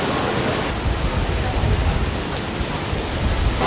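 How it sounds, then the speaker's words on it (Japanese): Heavy typhoon rain in Yokohama pours down steadily, a dense, loud wash of drops beating on surfaces with wind, continuous and close, with no voices over it. "神奈川県横浜市では、お昼ごろ、雨に加えて風が強まる場面も。"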